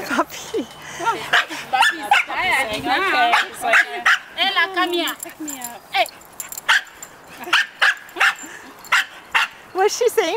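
A Corgi and a Portuguese Water Dog puppy bark, yip and whimper in excited bursts while playing, with short sharp barks repeating toward the end and a person speaking briefly.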